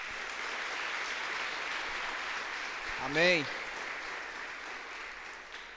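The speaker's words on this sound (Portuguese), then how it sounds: "Uma salva de palmas para Jesus" Congregation at a church service claps steadily in continuous applause, a dense wash of hands close by, with a single voice briefly calling out partway through.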